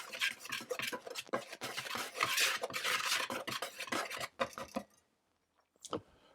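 A utensil stirs dry ingredients in a bowl, flour, baking soda, allspice and salt, with quick rhythmic scraping strokes that fill most of the stretch, then a pause and one last brief scrape near the end.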